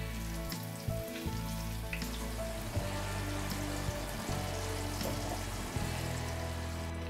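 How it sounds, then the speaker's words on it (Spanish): Pork cheeks sear in hot oil, a steady close crackling sizzle with scattered pops over a low background hum, no voices. "Ahora que ya tenemos el aceite a temperatura, empezamos a sellar las carrilleras."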